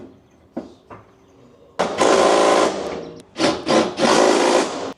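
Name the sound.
power tool screwing in coilover top bolts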